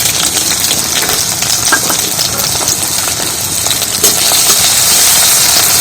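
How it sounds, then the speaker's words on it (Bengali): Chopped garlic, ginger and green chili fry in a pan, making a loud, dense, close sizzle that crackles steadily throughout. "এগুলো একটু ভেজে নেব"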